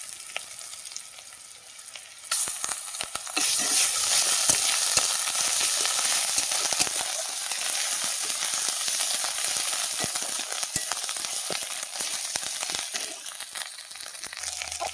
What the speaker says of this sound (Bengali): দেবো পেঁয়াজ, আদা রসুন বাটাটা দিয়ে দেবো।